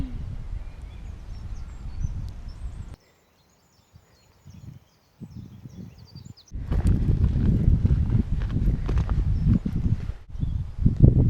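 A donkey walking along a coastal footpath between Corfe and Swanage, irregular hoof clops and rustling steps on the ground, pausing into near silence midway before resuming louder and closer with outdoor ambience.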